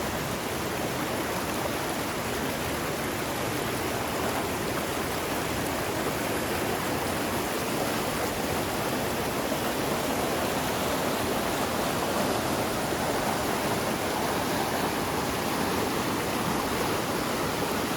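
A river in the Smoky Mountains rushing steadily a few steps below a tent campsite, a loud, unbroken wash of flowing water with no voices.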